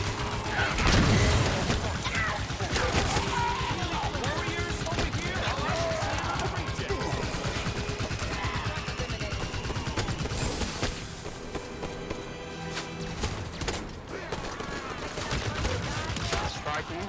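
Sustained gunfire from Halo 5 combat, dense rapid volleys and bursts filling the whole stretch, with a heavy impact near the start and sharp mechanical clicks and crashes layered throughout.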